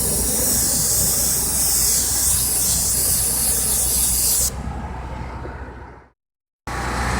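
Paint is sprayed in a steady, loud hiss for several seconds, then a softer spray continues before cutting out abruptly to a brief silence.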